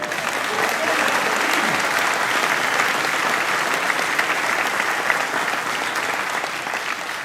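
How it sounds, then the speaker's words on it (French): An audience claps loudly and continuously for young musicians after a concert, a thick, unbroken round of applause lasting the whole stretch. "Ils sont là, vous pouvez les applaudir"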